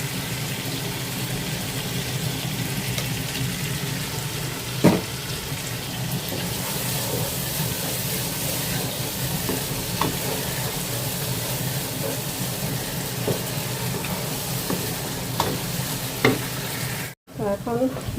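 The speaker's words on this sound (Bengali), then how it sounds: "মশলাটা একটু কষায় হলুদ আর মরিচ দিয়ে দেবো" Spice paste with turmeric and chili fries in a pan, a steady close sizzle with occasional stirring scrapes and a few sharp clinks, continuous and moderately loud.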